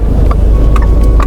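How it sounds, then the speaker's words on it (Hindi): A car rolls into temple parking at Shri Khatu Shyam Ji Temple in Bangalore, a loud steady low engine and road rumble filling the cabin, with faint brief higher clicks on top. "तो चलिए अब डालते हैं अंदर गाड़ी को।"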